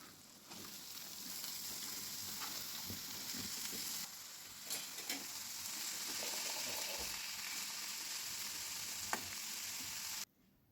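Spring onion and turmeric sizzle in a hot pan for an egg curry. A steady crackling fry is broken by occasional stirring clicks and scrapes, and it cuts off abruptly near the end.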